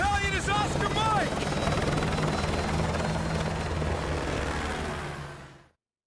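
A military helicopter in Call of Duty: Modern Warfare 2, its rotor roar loud and close, steady for several seconds before cutting off abruptly; brief shouted voices sound at the very start.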